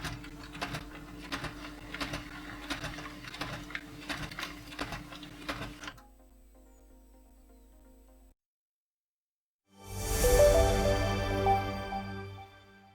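An inkjet printer with a multiple-sheet pickup fault whirs and clatters in rapid repeated bursts as it feeds paper, then goes quiet before a louder mechanical grinding surge near the end.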